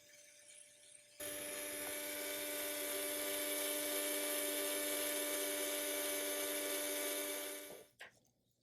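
Automatic white-ink stirring mechanism inside a Procolored L1800 DTF printer running steadily, a close, continuous whirring hum with a high whine that starts abruptly, holds for about six seconds, then stops with a brief clunk.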